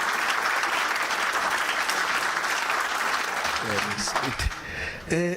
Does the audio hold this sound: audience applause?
yes